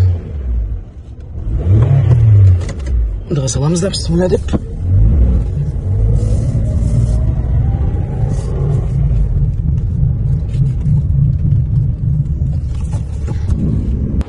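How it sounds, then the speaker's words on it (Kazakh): A Toyota Alphard engine rumbles and revs as the car pulls off, a low steady drone rising under a man's nearby speech. "Енді жүріп көрсететін болса машинаны"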